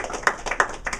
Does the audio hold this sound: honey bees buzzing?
no